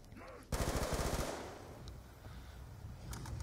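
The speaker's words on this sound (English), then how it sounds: "He's got a death machine camping back here." A Death Machine minigun fires in a Black Ops 2 Zombies grief match in Cell Block, opening with a loud, dense burst of rapid automatic fire that tails off into a rumbling wash of battle noise and scattered distant shots.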